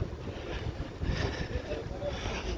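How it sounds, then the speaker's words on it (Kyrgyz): Wind buffets a microphone outdoors at the Jaapalak car market in Osh, a steady low rumble that rises and falls without a break. "Шамал."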